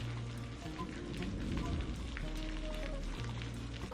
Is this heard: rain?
yes